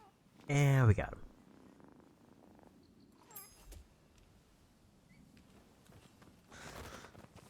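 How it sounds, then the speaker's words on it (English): A cat in the video game Rise of the Ronin gives a short, loud purring trill near the start, followed by faint game ambience, a brief chime and soft rustling. "The cat is back, so let's go try to grab them."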